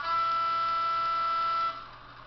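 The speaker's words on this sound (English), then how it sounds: "Now we've got the twin air horns." Twin air horns of a model Class 108 DMU, produced by a Zimo MX648R sound decoder and Eckig speaker: one sustained steady horn note held for about a second and a half, then cut off, leaving a faint background hum.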